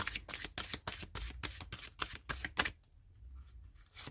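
Tarot cards riffle and snap in a quick rhythmic run of crisp bursts, close and fairly quiet, followed by a softer pause and a single final card sound.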